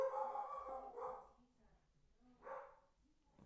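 A dog barks in the background, a few separate barks spaced apart, fairly quiet and distant, with no speech over them.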